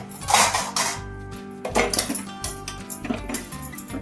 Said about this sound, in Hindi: मैं बर्तन धोवत हूँ, बर्तन साफ करत हूँ।